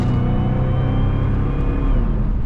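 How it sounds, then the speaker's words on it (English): A 600hp Cadillac CTS-V cruises at night with a steady, loud, close supercharger whine riding over deep engine drone, holding a constant pitch throughout. "that supercharger whine is unbeatable"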